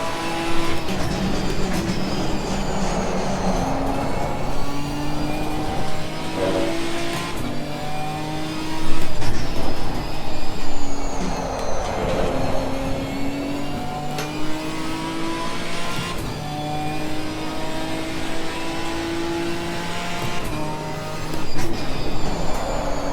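A Ginetta G55 GT4 race car lapping in Assetto Corsa Competizione, its engine revving up and down through repeated gear changes, rising whines and drops as it accelerates and brakes, loud and continuous without speech.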